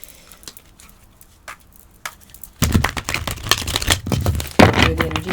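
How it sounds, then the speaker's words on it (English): Tarot cards are shuffled by hand, starting as soft, scattered taps and flicks and then turning into a close, busy riffling patter with sharp clicks. No voices are heard. "I think I need to shuffle these once or twice."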